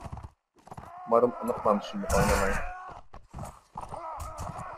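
A horse gallops in the video game Mount & Blade: Warband, its hoofbeats and occasional snorts mixed with game sounds while someone speaks over it throughout.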